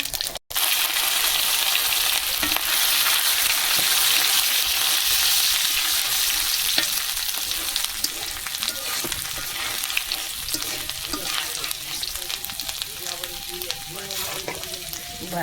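Dried red chili, cumin and ginger fry in hot oil with a loud, continuous crackling sizzle that runs throughout, with faint spoon taps and clinks mixed in and no speech.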